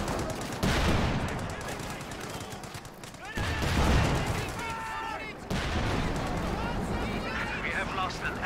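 Machine gun fire in a World War II strategy video game, with bursts of automatic fire and artillery booms under continuous commentary from a caster.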